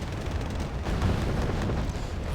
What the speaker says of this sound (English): Ontos are firing from all barrels. High rate of fire. Recoilless rifle fire.